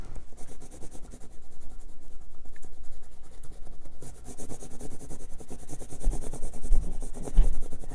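Pencil shading the stem of an iris drawing on paper laid over a board, a steady scratchy rasp of graphite strokes that continues without pause, close and fairly quiet.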